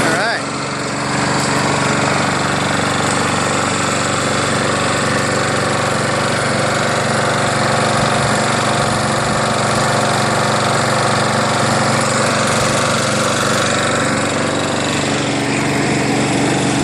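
A Craftsman 7HP Briggs self-propelled lawn mower that is hard to start, with a sheared keyway, runs loud and close. The engine drones steadily for the whole stretch, no breaks.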